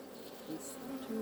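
Honey bees in an open beehive, a short steady buzz of many insects with a faint higher whine from one passing close, quiet and alone.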